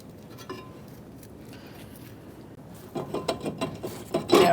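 A ratchet works loose the brake caliper bracket bolt on a front brake job of a 2000-2007 Ford Taurus. A quiet stretch gives way to a burst of close, loud, rapid clicking toward the end.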